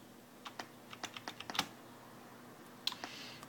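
Keys are pressed on a ZX-Uno computer keyboard, a run of close, crisp clicks in an uneven typing rhythm, then a pause and a couple more presses.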